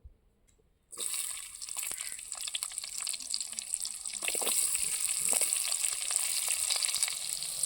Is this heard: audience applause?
no